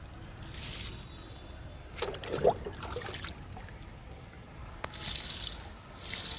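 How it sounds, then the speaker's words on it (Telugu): Liquid fertilizer poured from cans onto fruit and drumstick plants outdoors: a splashing, trickling pour in the middle, faint wind hiss around it, and one sharp knock near the end. "ఇప్పుడు లిక్విడ్ ఇస్తున్నాను డబ్బాలు పోస్తున్నా"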